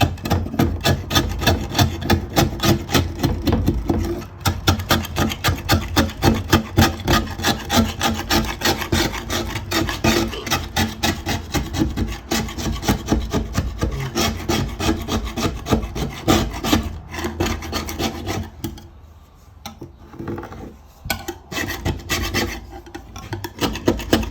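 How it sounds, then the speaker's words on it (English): A scraper rasps old paint off a wooden window in loud, rapid strokes that continue steadily and close by for the whole stretch, with a short pause near the end. "you just take and scrape it just like I was showing you."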